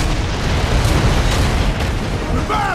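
A mortar round bursts in Gears of War Judgment, a loud, sustained, rumbling boom filling the low end throughout, with a faint voice under it near the end.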